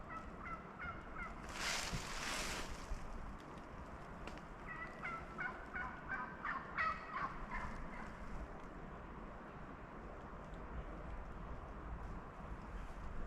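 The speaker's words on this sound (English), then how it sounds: "Can hear a turkey up on the hill." A wild turkey gobbles from up on a hill during a cool morning outdoors, a faint, distant burst of rapid gobbling rising over quiet background ambience, with a few softer calls following a few seconds later.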